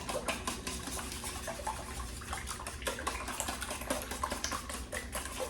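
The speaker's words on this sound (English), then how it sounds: "Whisk this up." Eggs mixed with sausage and onions are whisked briskly in a bowl, a steady run of rapid light clicks and taps continuing without pause.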